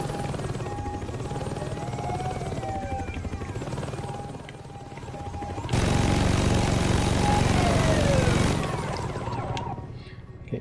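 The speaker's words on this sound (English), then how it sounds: "There's like a helicopter outside." A helicopter hovers outside during a police-terminal hacking mission in the Saints Row 2 video game, a steady droning rotor and engine hum that swells louder midway with other game noise, then fades.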